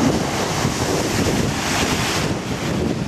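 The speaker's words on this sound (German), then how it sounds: "wie das Wasser durch die unterirdischen Höhlen hier am Strand nach oben gepustet wird, manchmal bis zu 20 Meter in die Höhe" Sea water is forced up through underground caves on a rocky beach, a continuous loud rushing roar of surf and spray mixed with strong wind buffeting the microphone.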